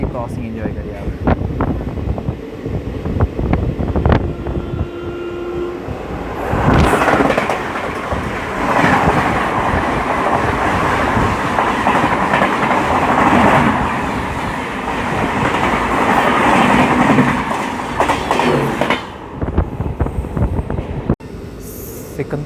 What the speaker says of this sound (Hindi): वो आ चुकी है, उसकी क्रॉसिंग एंजॉय करिए आप।